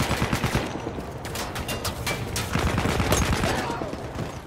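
Dense, continuous gunfire from Battlefield 1, a World War I shooter, with overlapping shots and rapid bursts filling the battlefield noise throughout.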